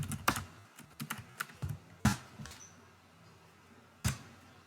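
Text is typed on a computer keyboard during an accounting software entry, with close, irregular keystroke clicks in short bursts and pauses and a few sharper key hits.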